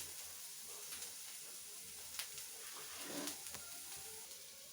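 Groundnut chutney ingredients sauté in a hot pan, giving a steady, soft sizzling hiss with faint stirring clicks and no speech.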